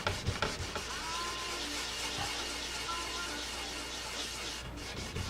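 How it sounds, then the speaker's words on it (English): Sandpaper rubbed by hand over primer on a track bike motorcycle part, a steady close scratchy hiss running evenly throughout with a few louder strokes at the start and end. "So I'll turn the sandpaper, because the sandpaper is really just cutting on the edge more than anything else."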